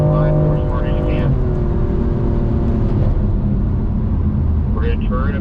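A BMW M car accelerating hard at full throttle on a race track, the engine note loud and steady with rising harmonics, then easing briefly before climbing again, all close by and unbroken.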